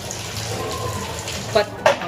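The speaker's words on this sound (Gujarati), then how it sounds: "એમાં આપણે હજી 2 ગ્લાસ જેટલું પાણી નાખીશું" Water is poured steadily into a pot of sambhar on the stove, giving a continuous splashing rush with a couple of louder sloshes near the end.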